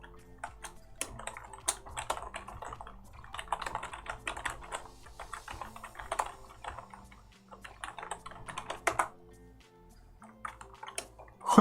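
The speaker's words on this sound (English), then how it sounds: "I'm pressing the keyboard a bit too loud" Loud computer keyboard typing during a livestream session, with irregular bursts of clattering keystrokes close to the microphone, pausing briefly between flurries.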